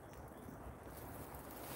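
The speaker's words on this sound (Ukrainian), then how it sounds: "Сьогодні в нас дуже великий вітер, чути прямо." Strong wind roars through a spring forest, a dense, continuous rushing buffet with no voices, steady and loud throughout.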